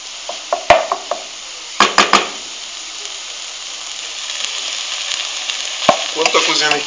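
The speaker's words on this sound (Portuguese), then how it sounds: "A cebola já está ficando já naquela cor transparente." Onion fries in a pan for okra farofa, giving a steady close sizzle broken by a few sharp utensil clinks and scrapes as it is stirred, with no voices.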